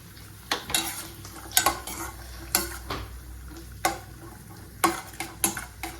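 White raisins go into a pan with cashews for sweet pongal and are stirred as they fry. A spoon scrapes and clinks against the pan in quick, irregular strokes over a faint sizzle, with no talking.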